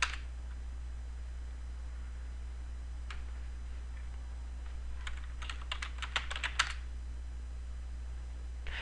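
Someone types on a computer keyboard, with a few scattered keystrokes and then a quick run of crisp, close clicks over a steady low hum, and no talking.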